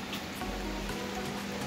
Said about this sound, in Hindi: दिन रात बारिश हो रही है और नॉन स्टॉप हो रही है